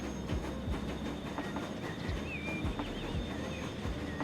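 A train in the Transport Fever 2 game on a Great Britain map, heard as a steady rumbling rail clatter with rhythmic wheel clicks and a faint high whistle-like tone, continuous and fairly quiet.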